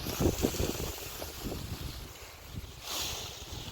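Outdoor wind gusts during a tarp tent setup, buffeting the microphone with low rumbling bursts early on and a softer steady rush, with no speech.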